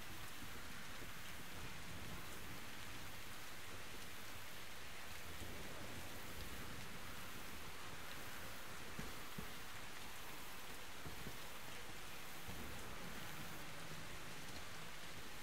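Rain in the video game Metro Exodus falls as a steady, even hiss of downpour for the whole stretch, with faint low rumbling underneath and no talking.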